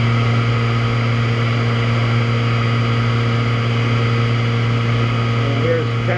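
Niigata SPN-50 horizontal machining center spindle running at 7000 RPM, a steady loud tonal whine with strong sustained hum bands, unchanging throughout.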